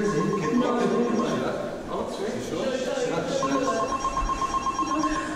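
A telephone rings in repeated electronic tones, moderately loud, while several people talk and react over it in a dim, spooky Halloween setting.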